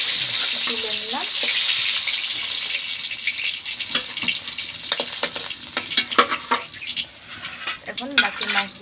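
Fish frying in hot oil for a village-style masala fish curry, with a steady hiss and sizzle as a utensil clinks and scrapes against the pan, and a voice briefly heard near the start and end.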